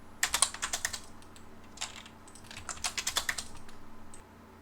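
Typing on a computer keyboard while entering AutoCAD commands, with quick clusters of crisp, close keystrokes in short bursts separated by brief pauses, over a quiet room.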